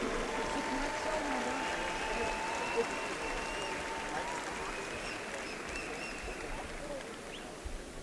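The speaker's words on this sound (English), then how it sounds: "a nice round of applause for your Oregon Wrestling Hall of Fame members" Crowd applause for Oregon Wrestling Hall of Fame members at a state high school wrestling final round, a steady wash of clapping filling a large gym, with voices mixed in throughout.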